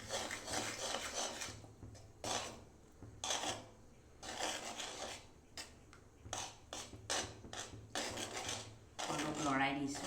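Sticky jaggery melting in a pan while being stirred, heard as intermittent scraping and rubbing strokes of a utensil against the pan, close and fairly quiet, in uneven bursts.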